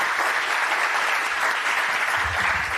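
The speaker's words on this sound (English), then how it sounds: "Thank you all. Round of applause." An audience at a food safety forum in Vienna gives a round of applause, continuous dense clapping filling the room evenly for several seconds without talk.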